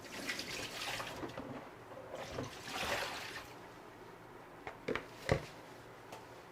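Water is poured through a kitchen sieve while making buns, giving faint, uneven trickling and splashing that swells in bursts, with a few sharper splashes near the end.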